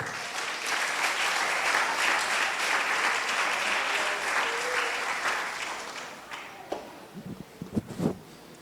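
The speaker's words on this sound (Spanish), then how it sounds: "Alguien da un aplauso a Dios." A church congregation applauds in praise of God during a sermon, a dense, fairly soft wash of clapping that thins out, with a few closer scattered claps near the end.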